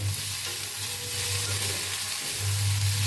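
Tomatoes fry with whole spices in a pan for palak paneer. A close, steady sizzle is broken by scraping stirs, and no one speaks.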